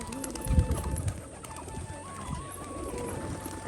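Pigeons on a rooftop give soft, low cooing with a few light thumps, close by and fairly quiet against a background hum.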